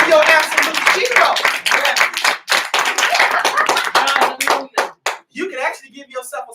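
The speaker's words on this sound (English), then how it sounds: "Come on, clap your hands for me." An audience claps hands in a lively burst, many rapid overlapping claps loud and close, thinning toward the end, with a voice speaking over the clapping.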